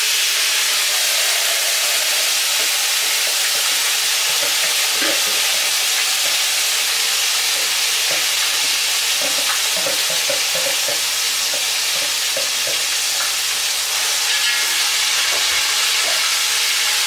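Keema masoor pulav, a spiced mince and lentil rice dish, sizzles steadily in a pan while a spoon scrapes and stirs it in soft, irregular clicks, with no voices.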